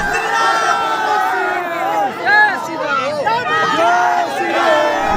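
A large crowd gathered at an airport for a visiting religious figure, a dense, continuous hubbub of many voices with shouts and calls rising throughout, loud and close.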